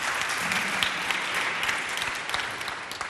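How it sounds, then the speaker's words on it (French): Studio audience applause greets a jury at a youth debate competition, a steady, dense wash of clapping that holds at an even level for several seconds with no talk over it. "On l'applaudit et on l'encourage, cher public."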